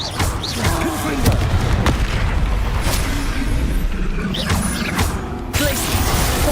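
Confringo spell blasts in Hogwarts Legacy erupt as booming, crackling explosions over constant game sound effects and whooshes, several blasts landing in quick succession at steady high volume.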